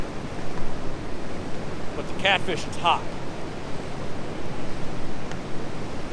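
Rushing water pours over rocks on a river in winter, a broad continuous roar with someone speaking briefly over it near the middle.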